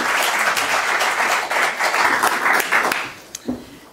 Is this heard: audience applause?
yes